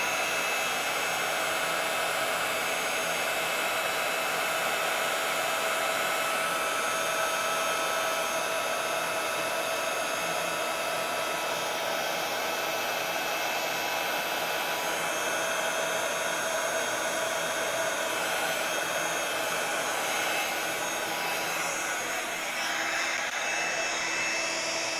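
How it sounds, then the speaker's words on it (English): A craft heat tool runs continuously to melt embossing powder, a steady close blowing roar like a hair dryer that holds for the whole stretch with no talk. "I can take my other heat tool and really melt that powder."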